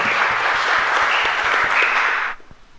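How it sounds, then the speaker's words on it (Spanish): Dense applause from a congregation at a Catholic Mass in a chapel in Asunción, many hands clapping steadily for a couple of seconds before cutting off abruptly into quiet. "Un aplauso, por favor."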